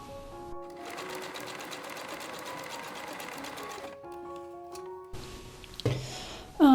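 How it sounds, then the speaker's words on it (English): A sewing machine stitches a gusset on a pair of basic underwear, running in steady close bursts with a short pause, then stopping amid handling clatter at the end. "now I can sew this part of a gusset"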